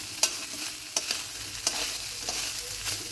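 Rice for basanti pulao is stirred and fried in a pan, a soft constant sizzle punctuated by sharp scraping strokes of the spoon roughly every second.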